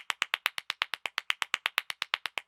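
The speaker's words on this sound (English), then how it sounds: "claps his hands" Hands clap in a fast, even run of about twenty sharp claps, close and crisp, each dying away quickly before the next. The claps are alone with no voices.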